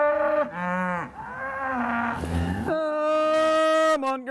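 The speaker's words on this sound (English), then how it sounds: "With 40 head of cattle on his 160 acres south of Eugene, Stephen Neal is not a heavyweight" Cattle on a 160-acre farm south of Eugene lowing in long, loud, drawn-out moos, several calls in succession from nearby animals, with no voices over them.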